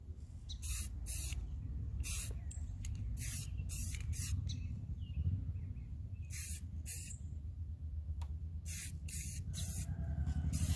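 Spray paint hisses over a stencil on a wooden sunflower sign in bursts of several seconds each, close and fairly loud, with a brief pause between passes and outdoor background noise.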